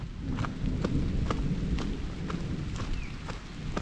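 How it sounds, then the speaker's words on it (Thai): Thunder rumbles low and long during steady rain on a bamboo-forest road, with raindrops pattering on a windshield and sharp drips ticking throughout, close and continuous, no voices. "นกขนทองร้องแล้วก็ฟ้าร้องนะครับ"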